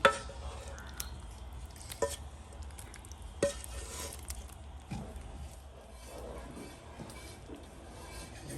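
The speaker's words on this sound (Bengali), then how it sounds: "মাংসগুলোকে মিক্স করে দিচ্ছি" Beef goes into boiling lentil haleem and is stirred in, with soft wet squelches, a few clanks of a spoon against the pot and a low bubbling simmer underneath.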